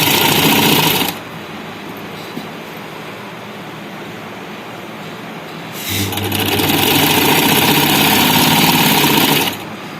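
A sewing machine stitches a round sleeve with plain straight up-and-down stitching, running loud and steady at the start, pausing to a quieter hum, then starting again and running until near the end.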